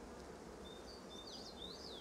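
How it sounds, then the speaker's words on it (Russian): A dense mass of honey bees packed onto seven frames of a hive hums in a continuous, faint drone, with a few higher buzzing whines drifting past. "В такой массе пчел"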